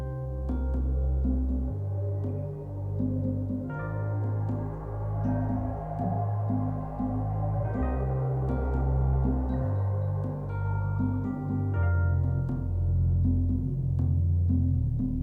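Looping game music for Clonizer with a steady bass line, percussion, electric piano solo and chords, playing alone at a moderate, even level.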